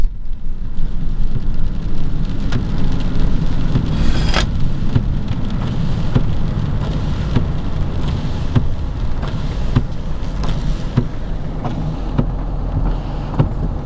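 Steady dense rain roars throughout during a rain and ice storm, a constant broadband wash with scattered sharper drips and patters close by; no voices.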